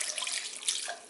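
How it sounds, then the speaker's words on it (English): Water pours into a crock pot for soup in a steady, hissy splashing stream, soft and close, with no talk. "Then I'm gonna throw in about 2 cups of water."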